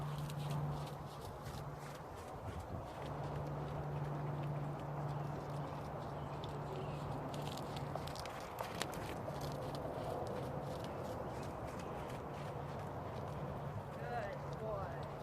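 A young horse lopes under saddle during an early saddling session, its rhythmic hoofbeats thudding steadily over a constant low hum, with a rider's voice talking intermittently over the gait.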